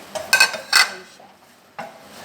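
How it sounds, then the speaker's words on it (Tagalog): Minced garlic sautéing in a pan for butter garlic shrimp, mostly heard as a few loud clinks and scrapes of a utensil against the pan over a faint, brief sizzle. "Susutin natin ang minced garlic."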